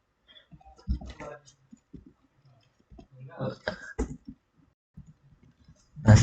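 Keys clicked on a computer keyboard while entering VLAN port commands, scattered soft taps and short bursts, heard under quiet talk.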